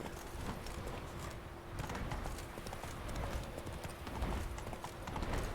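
In The Witcher 3, the horse Roach trots with steady, continuous hoof clip-clops, moderately close, for several seconds with no talking.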